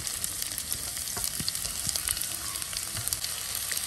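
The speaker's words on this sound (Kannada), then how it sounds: "ಈಗ 3 ಈರುಳ್ಳಿಯನ್ನು ಫ್ರೈ ಮಾಡುವ" Three roughly cut onions fry in a pan, producing a steady crackling sizzle with scattered pops and soft stirring scrapes throughout, close and moderately quiet, with no voices.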